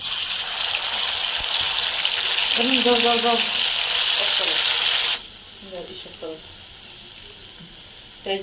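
Blended dried chili sizzles loudly in hot tempering oil for several seconds, a close, hissing roar that suddenly drops to a faint crackle, with someone speaking briefly over it.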